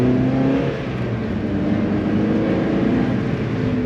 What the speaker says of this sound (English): I kind of like this quiet Miata